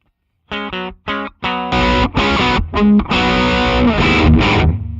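Electric guitar played through a Sir Riot pedal circuit on a clean setting, with separate picked notes and then sustained strummed chords, close and fairly loud with a slightly driven edge.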